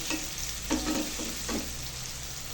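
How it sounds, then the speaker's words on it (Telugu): Green chillies sizzling with turmeric in a pan, a steady close hiss broken by a few louder stirring scrapes. "వాటిలోనే కొంచెం పసుపు వేసి కొద్దిసేపు 1 నిమిషం ఫ్రై అవ్వనివ్వాలండి మిర్చిని"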